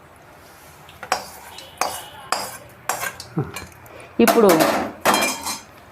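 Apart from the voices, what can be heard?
tempering poured in and stirred with tongs in pan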